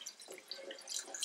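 Water trickles and drips into a pot of groundnut and palmnut soup, a light, close splashing that rises and falls for a moment.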